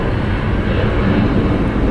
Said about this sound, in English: departing over here on, I think it's 17 Center, will be FedEx 1601. It's an MD-11F heading to Indianapolis.